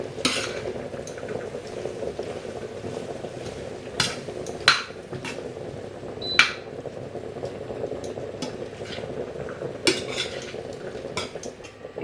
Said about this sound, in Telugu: ఇప్పుడు వీటన్నిటిని బాగా కలుపుకోవాలి